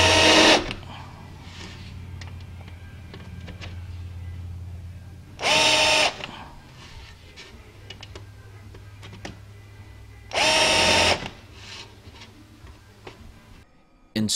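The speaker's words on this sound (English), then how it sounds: "I prepared and adjusted my countersink cage for the proper depth, so I can go ahead now and" A power drill with a countersink cage cutting rivet holes in an RV-12 aircraft fuselage kit, three short loud whirring bursts spaced several seconds apart, with quiet handling noises and a low hum between them.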